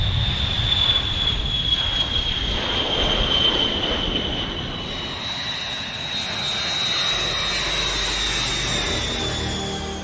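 Boeing B-52 Stratofortress bomber engines run up during start, a loud, continuous jet roar with a high whining tone that holds steady throughout, with no speech.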